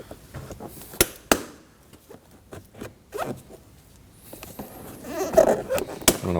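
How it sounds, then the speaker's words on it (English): A plastic trim tool pries up the window-switch trim on a Ford Edge front door, giving a few sharp plastic clicks and snaps with quiet scraping between them. "using my trim tool, we're going to work up this piece of trim here for the window switches"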